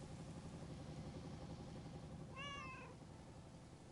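A single short cat meow from a video game rises briefly over a steady, droning engine-like hum that runs throughout, quiet and fairly distant.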